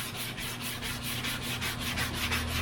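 Block sanding of primer on a Dodge crew cab body, a steady close abrasive rubbing with regular back-and-forth strokes, loud and continuous with no talk.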